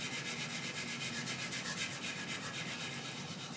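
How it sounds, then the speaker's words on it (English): A bowl scraper is rubbed back and forth on 600 grit sandpaper laid on a flat surface, making a steady, continuous gritty scrubbing hiss that stays at an even loudness throughout. "we're going to get some 600 grit sandpaper on this flat surface, turn it over and on the top,"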